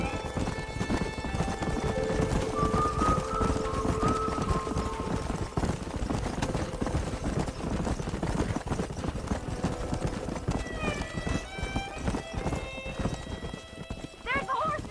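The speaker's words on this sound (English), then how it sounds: "There's the horses!" Hooves of several horses clip-clop in a fast running rhythm through a Red Dead Redemption game scene, with a whinny and voices talking over the steady hoofbeats.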